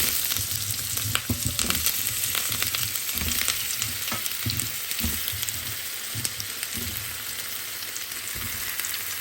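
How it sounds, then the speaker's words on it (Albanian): Potatoes frying in hot oil in a pan, a steady close sizzle and crackle running throughout with occasional bursts of spattering and no talk. "Pasi që është nxehur vaj, tash e marrim patatet, i ka verdisim tek vaj i nxehtë."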